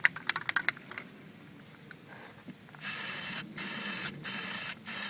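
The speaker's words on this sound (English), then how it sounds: "So we'll just go ahead and spray now. We're doing the first coat." Aerosol cans of Plastidip rubber coating are sprayed onto the wheels of a 2012 Cadillac Escalade ESV. A few light taps come first, then a loud steady hiss in three long bursts with brief gaps between them, close to the listener.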